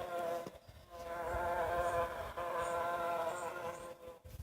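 A bee buzz played from a baby's sound book: a steady, droning insect hum heard close up, holding for several seconds with slight wavering.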